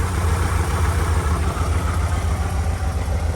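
An engine with freshly adjusted Solex carburetors idles steadily, a loud, even low rumble with a slight rhythmic pulse, close by and uninterrupted, with no talking.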